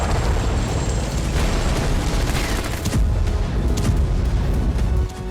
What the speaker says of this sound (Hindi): अनगिनत धमाके, बेहिसाब तबाही